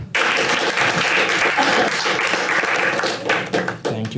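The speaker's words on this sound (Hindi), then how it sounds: "एक बार सागर के लिए ताली मार दो यार." A stand-up comedy crowd bursts into loud, sustained clapping for a performer, a thick continuous roar of hands lasting several seconds before tapering briefly near the end.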